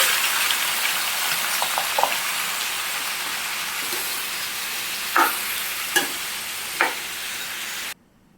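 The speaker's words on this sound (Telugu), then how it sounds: "రెండు కిలోల టమాటాని ఇలా అయితే కట్ చేసేసుకున్నాను ఈ నూనె హీట్ అయిన తర్వాత ఇందులో అయితే వేసేసుకుందాం" Two kilos of chopped tomatoes fry in hot oil, a steady bright sizzle that runs evenly, broken by a few sharp clicks and spatters near the end before it cuts off abruptly.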